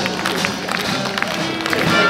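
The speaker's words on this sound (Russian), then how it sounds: "наши аплодисменты не смолкают" A crowd applauds at a festival opening parade in a dense, continuous wash of clapping, with a few scattered louder claps.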